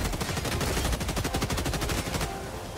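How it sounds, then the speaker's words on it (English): A machine gun rattles in sustained rapid automatic bursts in the video game Helldivers 2, loud, dense and close, with the firing thinning out just before the end. "The normal machine gun, it's like the HMG, but just better"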